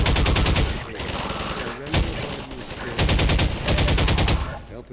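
Rapid automatic gunfire in the video game Half-Life 2; dense, loud bursts of rattling shots with short gaps between them, close and continuous.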